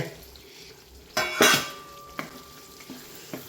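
Wheat flour roasting in ghee in a pan: soft scraping and stirring with a couple of louder clanks of a spoon against the pan, brief and close, no talking.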